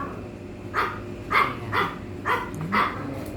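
A pet dog barks about five times in a loose, uneven rhythm, moderately close, over a quiet indoor background.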